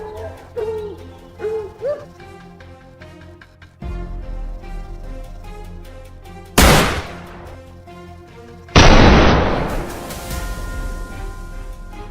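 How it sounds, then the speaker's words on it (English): Two sudden loud gunshot blasts from hunters during a wild boar hunt in a forest ring out over a steady background of birds cooing and calling, the second blast heavier and trailing longer. "Not 2 minutes later, a flurry of gunfire erupted."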